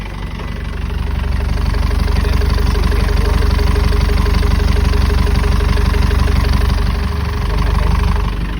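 Engine turned over by key and settling into a steady, loud idle with a continuous low rumble and rhythmic firing pulses throughout, no talking.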